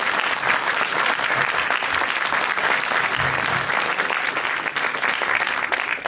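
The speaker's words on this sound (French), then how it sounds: "Vous pouvez l'applaudir." A cinema audience applauds the narrator of a documentary film, a dense, steady wash of many hands clapping at full strength for several seconds, close and continuous.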